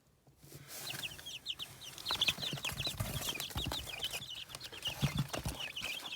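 A flock of ten one-month-old chicks on a farm cheeps steadily in quick, high, overlapping peeps, fairly close, with light shuffling and bumping noises underneath.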